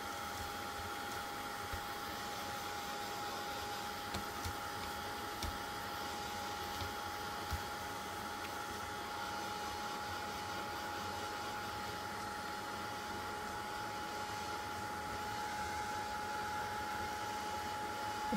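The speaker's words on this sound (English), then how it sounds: "heat tool." A heat tool blows steadily over paper craft flowers, a constant close whooshing hiss with a faint whine that runs unbroken throughout.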